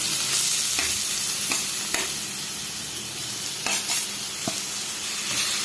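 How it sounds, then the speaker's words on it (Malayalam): Grated carrot for carrot halva sizzles in hot ghee with a continuous crackling hiss, broken by repeated sharp spoon scrapes against the pan as it is stirred close up. "ആ നെയ്യിലേക്ക് നമ്മൾ ഗ്രേറ്റ് ചെയ്ത് വെച്ചിരിക്കുന്ന ക്യാരറ്റ് ഇട്ട് കൊടുക്കാം"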